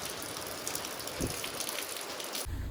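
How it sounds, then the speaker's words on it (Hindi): Steady, dense hiss of heavy rain pours down continuously, with a brief low thump near the end. "बहुत तेज़ बारिश हो रही है"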